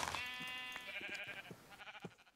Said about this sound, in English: Is that a sheep wearing a squid hat?